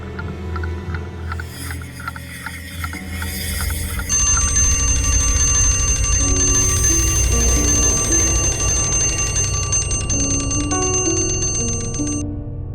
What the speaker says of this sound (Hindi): फिर ये घड़ी कैसे बजी?